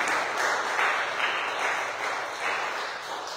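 Church congregation applauding steadily, a dense continuous wash of clapping with faint cheering, moderately loud and sustained throughout.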